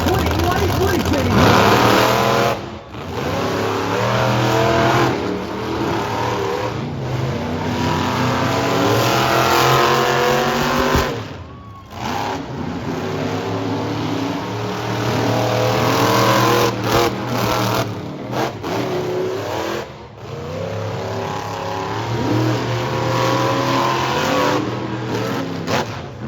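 Monster truck engines at a Bremerton, Washington show roar continuously with rising and falling revs through a loud public address system, as an announcer talks over the din throughout.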